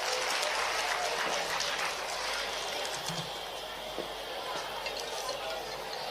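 Audience applause at a Gita Jayanti ceremony, a steady crowd clapping that fills the whole stretch, fading slightly toward the end.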